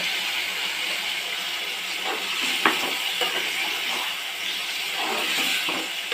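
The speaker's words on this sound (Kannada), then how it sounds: "ನೋಡಿ ಸ್ವಲ್ಪ ಆಲೂಗಡ್ಡೆ ಫ್ರೈ ಆಗಿದೆ ಎಣ್ಣೆಯಲ್ಲಿ" Potatoes frying in oil for a spicy potato gojju, giving a steady broadband sizzle with occasional stirring scrapes and a sharp clink near the middle, close and continuous with no talking.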